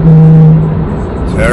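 A Lexus IS300 engine, the stock setup before a 1JZ-GTE VVTi swap, drones steadily up close with a strong low hum that eases slightly midway, and a voice speaks over it near the end.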